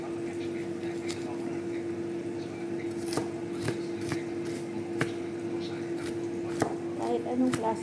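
Onions being chopped on a board for fettuccine, with a series of sharp knife taps that come irregularly and grow busier toward the end, over a steady background hum.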